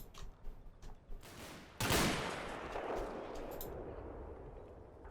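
A German heavy machine gun team opens fire in the World War II game Combat Mission: Battle for Normandy: a few faint early cracks, then one loud booming blast with a long, rolling, echoing decay.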